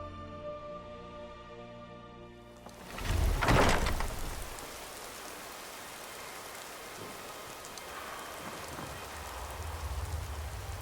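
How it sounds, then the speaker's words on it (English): A thunder-like crash bursts out near the start, then a soft, steady patter of rain continues in the video game Skyrim, fairly quiet and even, with no talking. "Is it raining in here?"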